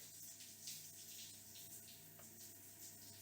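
Running shower water serving as the track for a Quaver 4K rhythm game map, a quiet, steady hiss of spray with small fluctuations and a faint rubbing touch, no voices.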